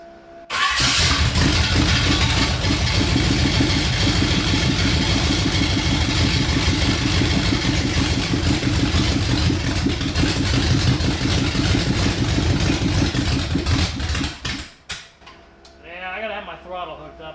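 A 500 hp Chevy V8 swapped into a rear-wheel-drive Honda CRX cranks and fires, roaring loud and steady for about fourteen seconds before cutting off, leaving a voice speaking briefly afterward.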